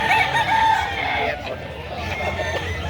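A rooster crows loudly and close at a busy chicken market in Cebu, its call rising over clucking fowl and a background murmur of voices.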